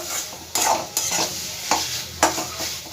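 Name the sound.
sautéing and stirring in a pan on the gas stove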